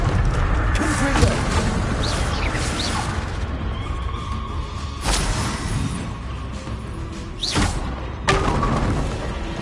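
Confringo blasting spells exploding in Hogwarts Legacy, several sharp booming blasts with crashing debris spread across a busy combat scene, each burst sudden and loud over a constant rumble.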